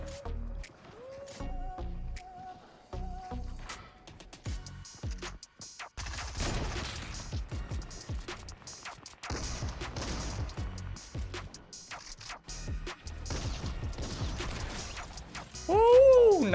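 A video game match plays out with bursts of gunfire and explosive impacts scattered across it, sharp cracks clustering in the middle and a louder blast near the end, while players talk excitedly throughout.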